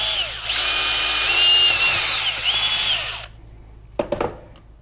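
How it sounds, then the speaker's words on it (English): A power drill bores a small hole for auxiliary light wiring under a Denali mounting bracket, whining steadily and loudly for about three seconds, then stopping, followed by a few sharp knocks and rattles. "So I drilled a little hole underneath"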